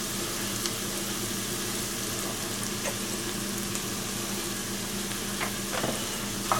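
Flour being stirred into a pot of buffalo chicken soup, with a faint, steady swishing and light scraping of the spoon under a low simmer, no talk.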